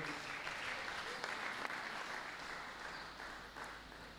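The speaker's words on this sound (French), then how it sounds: "Est-ce qu'on peut applaudir pour la parole de Dieu?" A church congregation applauds during a sermon, a sustained wash of many hands clapping at moderate distance, fairly even in level for several seconds.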